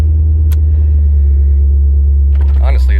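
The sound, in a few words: Corvette Z06 engine idling roughly after water damage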